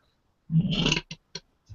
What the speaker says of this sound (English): Mountain Dew burp.